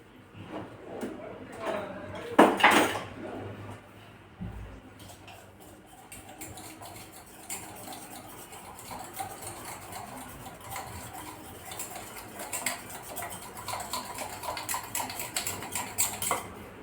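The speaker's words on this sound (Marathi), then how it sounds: "आणि मिल्क पावडर, कस्टर्ड पावडर आणि मिल्क पावडर थोड्याशा दुधात आपण टाकलेली. याला छान असं फेटून घेऊ आता." A whisk beats custard powder and milk powder into a little milk in a bowl, making rapid, close metallic clinks and scraping taps in uneven bursts, with a voice speaking at times.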